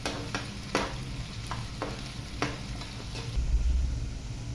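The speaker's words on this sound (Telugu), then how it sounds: "ఉల్లిపాయ ముక్కలు పచ్చి వాసన పోయే వరకు, మంచి కలర్ వచ్చే వరకు వేయించుకోవాలి" Chopped onions fry with a steady sizzle in a pan for a tomato and cluster bean curry, with several sharp scrapes and taps as a spoon stirs them, close up, no talking.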